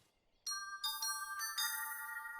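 A bright bell sound effect from Mickey Mouse Clubhouse rings in several quick, chiming strikes that sustain and overlap, loud and clear against a quiet background.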